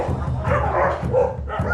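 Sassa, a dog at a Hong Kong dog cafe, lets out a close, loud string of barks and yips, with a whining edge between them.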